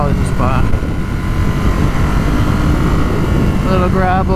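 A 2018 Ducati SuperSport motorcycle engine drones steadily underway, a constant loud throb mixed with wind rush, with a rider talking briefly over it.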